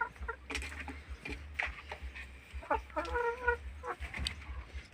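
Laying hens and native chickens cluck and chatter close by in short, irregular bursts, with a faint low hum underneath.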